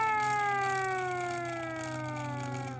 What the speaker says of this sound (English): I mean, it is kind of a cool siren